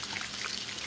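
Pancake batter poured onto a preheated cooktop for breakfast, a brief soft liquid pour and sizzle, close and quiet, with no talk.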